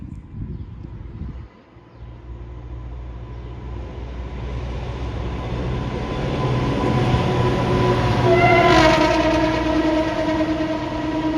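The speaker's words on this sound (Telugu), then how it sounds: "ఒక ట్రైను ఫుల్ స్పీడ్లో వస్తున్నట్టుంది, హారన్ సౌండ్ వస్తుంది." A train roars past at full speed in the Malkajgiri area of Hyderabad, its rumble swelling steadily, and a loud horn blares near the end as it draws close.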